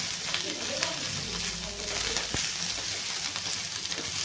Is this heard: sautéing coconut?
yes